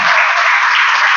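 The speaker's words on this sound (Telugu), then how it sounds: "చప్పట్లు కొట్టి దేవుడు" A church congregation claps together in a loud, dense burst of hands, close and continuous for a brief moment.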